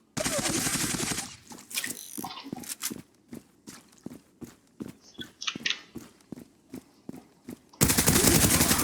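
Machine gun fire in the online shooter Zula: a dense sustained burst at the start and end, with a rapid string of separate loud shots in between, close and prominent.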